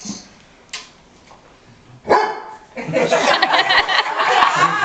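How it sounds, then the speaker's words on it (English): A dog barks close by in a home, a sharp yelp or two early on, then a louder burst of barking and excited noise that continues, with laughter and voices mixed in. "He's going to keep barking."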